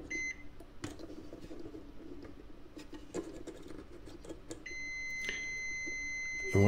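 A multimeter continuity tester beeps steadily while probing the coils of a QSC KW153 powered speaker during repair, a sustained electronic tone starting partway in and holding to the end over faint bench noise.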